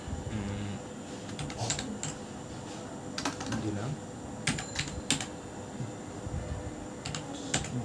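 Computer keyboard keys clack in quick uneven bursts while a book title is entered, with a person talking over the typing throughout.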